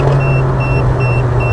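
VW Mk1 Caddy with a 20V turbo conversion accelerating hard in third gear, a loud, steady close engine roar with a continuous low rumble, no talk.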